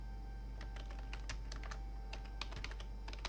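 Fingers tap quickly and unevenly on a computer keyboard, close and quiet, a run of light clicking keystrokes with short pauses.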